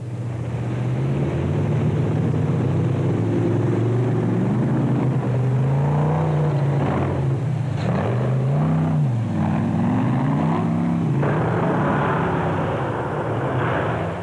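Bat Special 1 rally car with a big Chevy engine, racing in the 2006 Sugarbelt 400 rally, droning loud and steady with rising and falling pitch sweeps as it is pushed hard.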